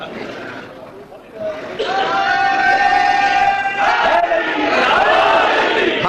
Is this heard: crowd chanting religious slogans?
yes